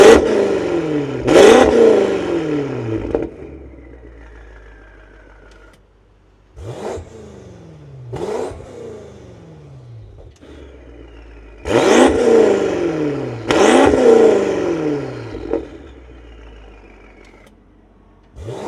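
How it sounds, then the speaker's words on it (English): A BMW F90 M5 Competition fitted with a KB Tuning valved titanium exhaust, in comfort mode with the valves open and closed, gives several loud, close revs. Each sharp blip rises and then falls away, with short idle pauses between the bursts and no talking. "we're gonna go ahead and give you guys some revs in comfort with the valves open and closed"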